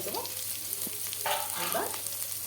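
Onions and green chillies frying in oil with potatoes already fried with salt and turmeric, a quiet continuous sizzle broken by a couple of stirring scrapes, close by.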